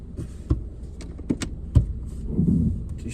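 A 2012 Suzuki SX4 AWD with a replaced used drive shaft rolls along at low speed, a dull cabin rumble broken by scattered knocks, thumps and creaks from the driveline and interior.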